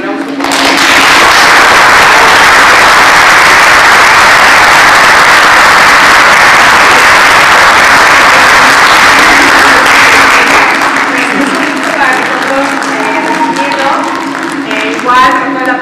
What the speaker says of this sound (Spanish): hay que recibirlo con un fuerte aplauso